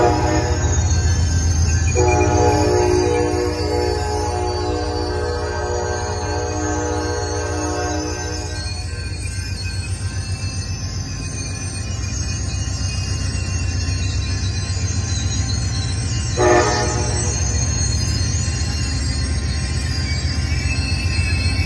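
An Amtrak Coast Starlight train stands at Jack London Square station in Oakland under a steady diesel rumble, its horn sounding one long blast and later a short second blast, loud and close.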